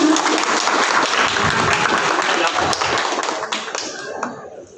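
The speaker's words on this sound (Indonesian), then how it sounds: "Tepuk tangan hadirin semuanya." An audience at a volunteer declaration rally in South Jakarta claps loudly in a dense burst of applause that thins out and fades near the end.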